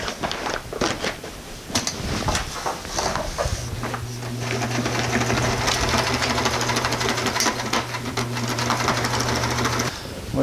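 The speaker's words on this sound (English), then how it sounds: "All we're going to do here is sew it so that we get a couple of rows of string on it to give it some strength" A sewing machine stitches rows of string into a fish bag used as a tuna cooler. It gives a loud, close, rapid mechanical chatter that steadies into a sustained run partway through, with no speech.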